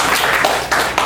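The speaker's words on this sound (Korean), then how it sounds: "수고하신 두 분께 다시 한번 큰 박수 부탁드리겠습니다" Audience clapping for presenters at the end of a talk session, a brief close burst of hand claps with uneven rhythm lasting about a second.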